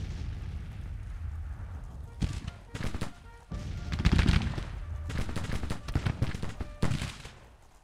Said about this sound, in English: It's from that artillery fire right across the upper bridge there.